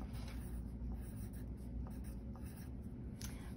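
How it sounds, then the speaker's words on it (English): Pencil scratching on paper in a phonics lesson, a faint continuous writing sound with small strokes and scrapes over a low steady room hum, no voices. "Write your name on top, please."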